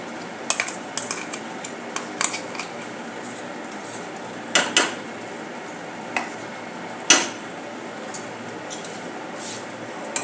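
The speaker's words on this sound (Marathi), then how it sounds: "अशा प्रकारे मिक्स करूया." A spoon stirs chickpea paste into a cooking pot, sparse metallic scrapes and clinks against the pot at irregular intervals over a soft low background hiss.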